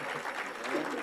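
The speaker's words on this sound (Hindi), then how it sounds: "बहुत अच्छी ताली बजा देना। हाँ जोरदार तालियां।" Crowd applause at a political anniversary event, a dense steady wash of clapping lasting about a second with some voices mixed in.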